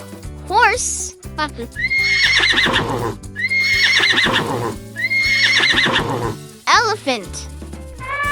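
A horse whinnies loudly and clearly several times in close succession, with a brief clip-clop of hooves, standing alone without talk.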